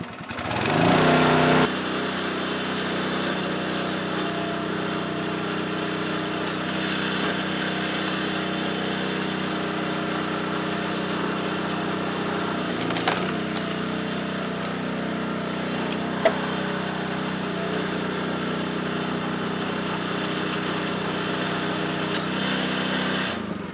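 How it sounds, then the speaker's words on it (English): A gas-powered log splitter engine runs steadily at high idle throughout while a log is split, a loud, continuous droning hum with a brief dip and knock partway through. "when I was splitting that log"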